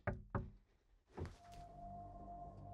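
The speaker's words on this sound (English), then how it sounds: "I heard a I heard a knock." Two sharp knocks land in quick succession on a surface inside a house, followed by a duller thump and a low, lingering hum; faint and fairly close.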